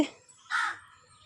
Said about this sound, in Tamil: காக்கா வேறு கத்திகிட்டு இருக்காங்க